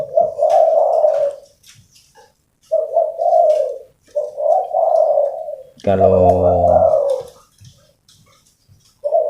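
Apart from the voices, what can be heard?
spotted dove (tekukur) cooing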